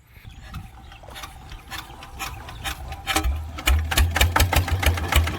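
Old three-cylinder engine with its original exhaust pipe starting in cold weather, catching at once and settling into a steady, fast low chugging idle with ticking mechanical clatter, close and fairly loud.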